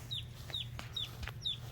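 Chicks peeping in a room where chicken supplies are kept, with four high, thin peeps spaced evenly over a low steady hum.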